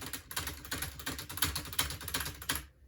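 Rapid, steady keystrokes clatter on a backlit Bluefinger keyboard, a close, dense run of clicks that stops abruptly at the end.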